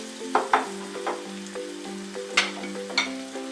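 Ginger garlic paste sizzles in hot oil alongside browned onions, with bursts of crackling and spattering over a steady frying hiss.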